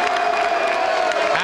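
Boxing arena crowd at a Roy Rutherford versus Dazzo Williams rematch, a continuous roar of cheering and applause with a commentator talking over it.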